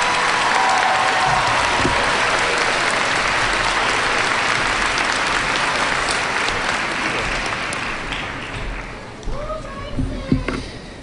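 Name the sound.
applause for graduates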